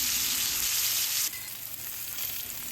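A salmon fillet sears in a pan, giving a steady hissing sizzle that drops noticeably in level partway through and then continues more quietly, with no voices.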